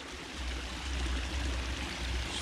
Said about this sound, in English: Pulled Daisy down to the creek so she could cool off.